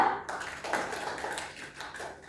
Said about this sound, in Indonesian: Beri aplaus kepada kelompok 2